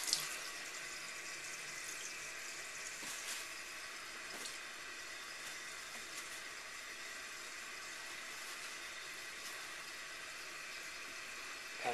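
A faucet runs continuously into a sink as pieces of food are rinsed, a steady hissing splash with no one speaking.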